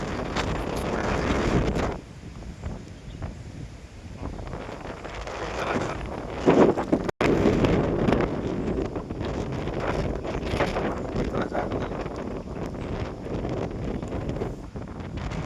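Strong wind on Kotebetta hill buffets the microphone in a loud, continuous roar, with a brief dropout partway through before the gusting resumes.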